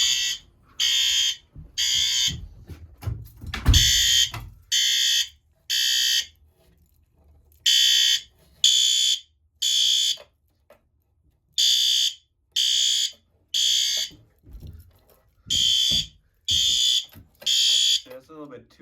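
Building fire alarm sounding during a routine monthly test, a loud repeating pattern of three-pulse electronic horn blasts separated by gaps, with some voices and a low thump in between.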